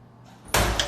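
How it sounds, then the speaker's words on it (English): A restroom stall door swings open with a quiet rustle that builds into a sudden loud bang and rattle, heard close by. "So it's a door opening."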